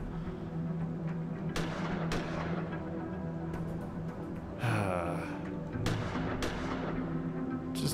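Two gunshots ring out in the sci-fi adventure game Gemini Rue, sharp cracks standing out over a dense, steady bed of game ambience and rumbling background sound.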